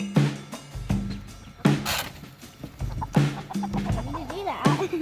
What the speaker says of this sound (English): Right now though, we're going to feed the chickens.